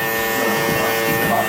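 Hair clippers with no guard, lever fully closed, mark a taper guideline on a haircut, giving a steady close electric buzz that runs the whole time with faint background sounds.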